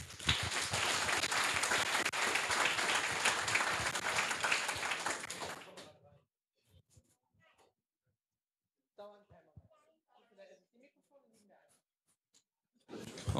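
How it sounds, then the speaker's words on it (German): An audience at a Jugend Hackt Köln 2018 youth hackathon presentation applauds the group, a dense burst of clapping for about six seconds, then fading into near silence with scattered quiet voices and handling noises. "Ein Applaus für die Gruppe"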